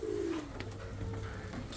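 A pair of Chinese owl pigeons coo inside a breeding loft, a low rolling coo rising and falling near the start, followed by softer murmuring calls against steady loft background.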